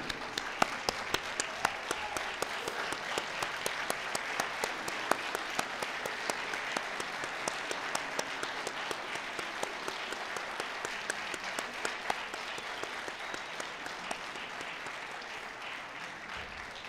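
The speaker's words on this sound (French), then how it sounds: "Mesdames et messieurs, applaudissons nos diplômés." A large audience at a university management school graduation ceremony applauds the graduates with sustained, even clapping that fills the hall, fairly distant and slowly thinning toward the end.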